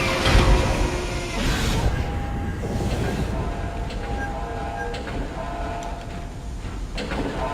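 Tram car grinding along its track in the sci-fi horror game Dead Space, a loud rumbling, rattling rail noise with mechanical clanks and hisses, a heavy jolt near the start and metallic knocks later.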